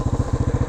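A 1975 Honda XL350 motorcycle engine idles in mint original condition, giving a brief, close burst of low, even, rapid firing pulses.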